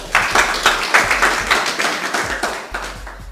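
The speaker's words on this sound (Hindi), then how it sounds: "चलिए एक बार अपने लिए तालियां बजा सकते हैं।" An audience at a business training seminar claps for themselves, a short burst of rhythmic group applause with distinct, evenly spaced hand claps throughout.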